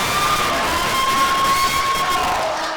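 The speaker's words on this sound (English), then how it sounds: "please give all of our candidates, especially the ones on the stage, a round of applause" A student government debate audience applauds and cheers: a steady, dense wash of clapping and shouting that holds at full strength throughout and eases slightly at the end.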